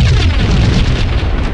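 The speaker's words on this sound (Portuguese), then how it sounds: "Toma, vou usar uma granada, porque é melhor." A grenade explodes in the video game Max Payne, a loud, dense booming blast with rumbling low end that fills the whole short moment without letup.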